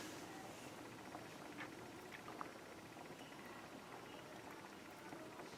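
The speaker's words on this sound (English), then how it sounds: "Give me a nice even bubbling around." A pot of rice and chicken thighs with garam masala and azafran simmers over a lowered gas flame, giving a steady, soft bubbling and fine patter that runs evenly throughout at low volume.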